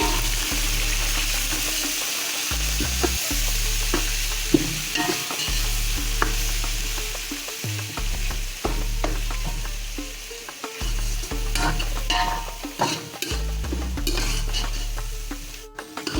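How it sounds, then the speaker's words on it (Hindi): Garlic ginger paste fries in oil in a cooking pan, sizzling steadily up close while a spoon scrapes and stirs in repeated rhythmic strokes. "ये अच्छी तरह से लहसुन अदरक भुन गया है"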